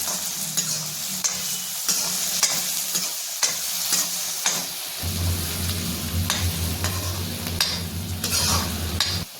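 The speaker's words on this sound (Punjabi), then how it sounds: "ਤੇ ਨਾਲ ਪਾ ਦਵਾਂਗੇ ਜੀ ਲਸਣ ਤੇ ਹੁਣ ਆਪਾਂ ਇਹਨੂੰ ਚੰਗੀ ਤਰ੍ਹਾਂ ਭੁੰਨਾਂਗੇ" Garlic roasting in a frying pan for a mixed vegetable dish gives a constant sizzle with repeated close stirring scrapes. The frying grows louder and fuller halfway through, and nobody speaks.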